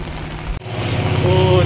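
Sudden heavy rain in Delhi pours in a dense, steady hiss, loud and close, with a brief break before it swells again.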